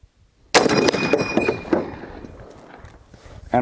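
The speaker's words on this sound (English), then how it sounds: "what you saw was the familiar twang of the end block getting thrown out of the rifle when the rifle was empty" An M1 Garand .30-06 rifle fires one loud, close shot, followed by the bright metallic ping of the empty en bloc clip ejecting and clattering, then quiet before another sharp onset at the end.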